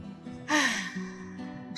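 A person imitates loud mouth breathing with one sharp, breathy gasp-like inhale up close, fading into quieter breath.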